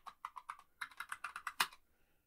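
Quiet, close computer keyboard typing as a password is entered on a Linux machine: a quick run of about a dozen light key clicks in an uneven rhythm, ending with a slightly harder keystroke, with no talking.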